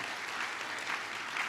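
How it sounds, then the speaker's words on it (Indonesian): Church congregation applauding at a worship service, a steady wash of many hands clapping without pause and fairly distant, no voices standing out. "berikan tepuk tangan yang paling meriah buat Tuhan"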